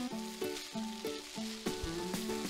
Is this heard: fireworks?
no